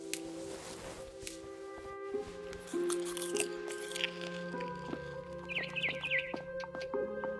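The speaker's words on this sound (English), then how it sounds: "Then I heard chirping outside my window." A barn swallow chirps outside a window in What Remains of Edith Finch, quick high twittering calls over a quiet, tonal musical backdrop, faint and somewhat distant.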